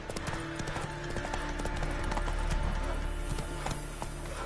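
Roach, a horse in The Witcher 3: Wild Hunt, gallops with rapid, rhythmic clip-clopping hooves at close range, steady and fairly loud over a game ambience.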